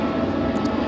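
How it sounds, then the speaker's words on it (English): A jet aircraft passes overhead, heard as a steady, continuous low roar that holds through the whole second without a break, fairly distant and alone with no talking over it. "it's a jet going over right now"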